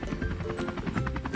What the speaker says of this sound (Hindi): बालू और शालू हेलीकॉप्टर ऑटो रिक्शे को नीचे उतारने का इशारा करते हैं और ऑटो रिक्शा नीचे उतर जाता है